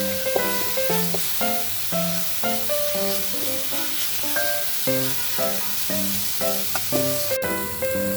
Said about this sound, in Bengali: একটু সময় নিয়ে শাকটাকে ভাজতে হবে।